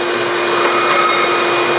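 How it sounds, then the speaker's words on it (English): A vacuum cleaner runs steadily during a high-voltage cleanup, a loud, close, continuous whine and rush with no talk over it. "Vacuum everything in the room."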